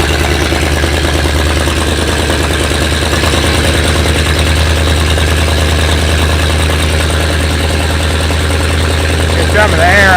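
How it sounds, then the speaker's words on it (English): A 7600 engine idling roughly with a burnt valve on the front pipe, giving a loud, close, continuous uneven rumble with a pulsing low throb. "That front pipe doesn't sound quite right, and that's because of the burnt valve on it."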